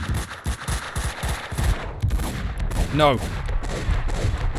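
Rapid gunfire from a Max Payne 2 firefight: bursts of automatic shots and single cracks crowd together, with voices shouting briefly over the shooting.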